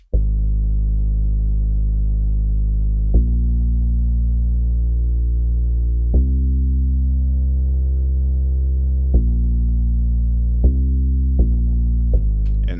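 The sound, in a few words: bass line following piano root notes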